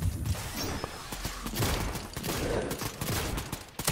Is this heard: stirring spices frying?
no